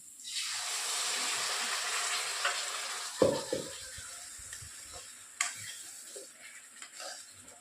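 Fish sizzles loudly in a hot pan as bhedeli lota (skunkvine) paste goes in. A steady frying hiss carries on, broken by a few clattering stirs and scrapes partway through.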